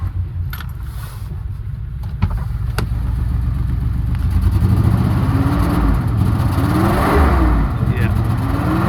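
A Toyota Hilux Surf engine cold-starting at high altitude, cranking and catching, then running rough and revving unevenly up close, with people talking over it.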